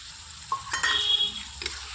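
A spice paste of turmeric and whisked yogurt frying in a pan, stirred in short scraping strokes with brief sizzling bursts over a quiet background, close and fairly soft.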